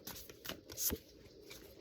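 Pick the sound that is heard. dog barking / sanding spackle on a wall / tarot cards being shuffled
tarot cards being shuffled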